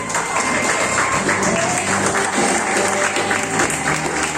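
Church congregation applauding during a Spanish-language sermon, a dense, steady wash of clapping heard throughout, with a faint voice and some music underneath.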